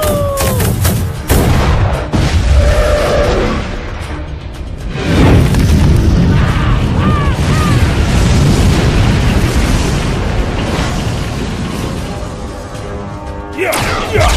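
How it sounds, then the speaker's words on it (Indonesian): Booming explosions and bursts of gunfire from an animated film battle scene, loud and dense throughout with a big blast midway, while voices speak over the action. "Tembak terus!"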